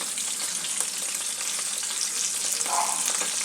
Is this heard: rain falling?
no